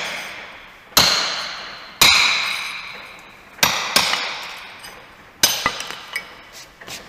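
A hammer strikes a brick four times at even intervals to crack it, each blow a sharp close crack ringing off briefly, with a quieter tapping follow-up after the last hit.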